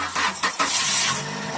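A Toyota Vios cranks on a portable jump starter wired to the battery, a few quick starter bursts before the engine catches and settles into a steady close idle.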